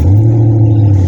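Engine of a used car with an exhaust leak running steadily, a loud low rumbling drone with a throaty, uneven exhaust note held throughout.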